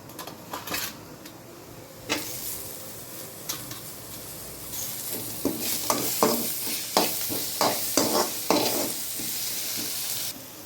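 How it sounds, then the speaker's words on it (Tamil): Onions sauté in a pan for chicken gravy under a constant sizzle, while a spoon scrapes and stirs in sharp strokes that grow quicker and more frequent over the second half. "வெங்காயம் நல்லா கொஞ்சம் சிகப்பாக வர வரைக்கும், ரொம்ப சிகப்பாக மாநிறமாக வர வரைக்கும் வதக்கி எடுத்துக்கலாம்."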